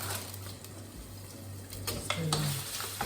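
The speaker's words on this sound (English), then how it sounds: "You don't want to overcook the bacon." Bacon fries in a pan under a steady low sizzle, with a few clinks and scrapes of utensils against the cookware near the end, no talking.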